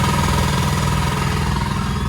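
Kobalt two-stage shop air compressor running through its break-in period, giving a steady, continuous mechanical drone with a rapid pulsing chug, moderately loud and close, no talking.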